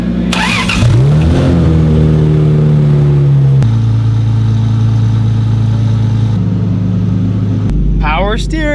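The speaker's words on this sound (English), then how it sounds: "Now I'm gonna turn the car on." A Toyota 1JZ-engined drift car cranks and fires up, then settles into a loud, steady idle with shifting tones as the steering wheel is held at full lock, the engine close and continuous throughout.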